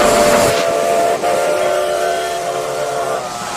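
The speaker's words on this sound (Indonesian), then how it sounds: "Kereta apinya mengelilingi mainan teman-teman." A steady whistling hum with a mechanical rattle runs continuously, loud and close, like a small toy train engine circling along a track around other toys.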